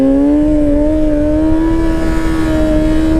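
A motorcycle engine holds a steady, loud drone during a slow wheelie at a trackday, its pitch rising gently and staying even throughout, heard close with no talking.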